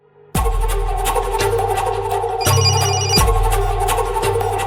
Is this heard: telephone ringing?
yes